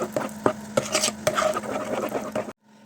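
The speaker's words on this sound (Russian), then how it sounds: "Тоже ложечкой перемешиваем." A spoon stirs melted butter into batter for a mushroom and boiled-egg pie, giving close scraping and clinking strokes against the bowl in an uneven rhythm, ending abruptly in near silence.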